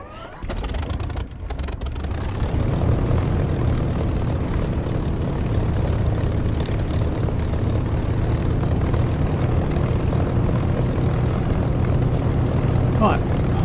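Propeller aircraft engine starting in the DCS flight simulator: a few sputtering coughs, then a loud, steady engine drone, with a voice talking over it.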